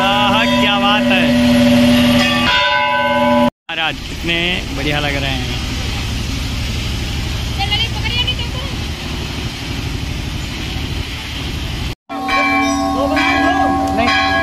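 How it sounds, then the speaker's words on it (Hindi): A heavy bell at a Hindu Shiva temple near Badaun rings loud and close with a long sustained metallic tone, breaking off and returning later, while people talk throughout amid outdoor background noise. "देखो कितना भारी घंटा है"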